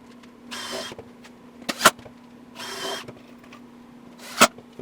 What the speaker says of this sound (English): I decided to just pre-drill and countersink the screws through the outside of the cabinet